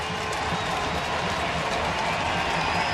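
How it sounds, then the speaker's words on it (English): Steady crowd applause and cheering fills a baseball stadium during a Seattle at Oakland game, a dense continuous wash of clapping and voices with no clear breaks. "So the crowd, nice crowd today, getting into it."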